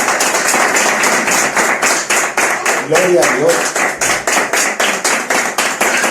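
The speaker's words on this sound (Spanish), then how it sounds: "Ese aplauso al Señor." Church congregation clapping together in a steady rhythmic beat, loud and close, with a voice speaking over the applause.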